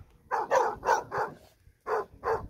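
Dogs guarding goats on a farm let out a series of sharp, close barks in quick bursts, about seven in two groups with a short pause between.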